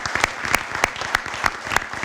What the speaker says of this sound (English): Give Danielle Bosler a big round of applause